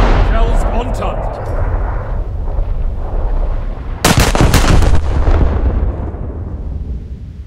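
Heavy naval gunfire from the USS Nevada, a 1944 Nevada-class battleship, in War Thunder: a sudden loud burst of shell fire and rumbling blasts cuts through a dense, roaring background partway through, with a voice talking.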